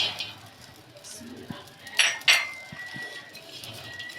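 Unwashed dried fish (shutki) dry-roasting in a tawa pan for shutki bhorta, with sparse metallic clinks and scrapes of stirring and a couple of sharper knocks near the middle against a faint background.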